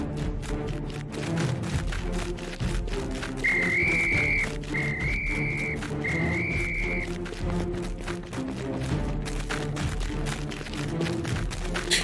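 In an animated chase with police, a whistle is blown in three short, shrill blasts over a busy background of music and bustle.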